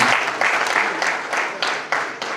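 An audience claps steadily at a Rwandan bride-price ceremony, the applause dense and close and rising in waves with a few louder surges, while a voice carries faintly beneath it.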